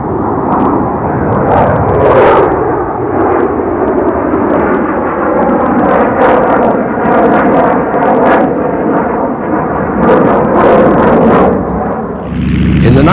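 Boeing Dash 80 prototype jet airliner in flight, a loud continuous broadband engine roar that stays steady for the whole stretch, with no voices over it.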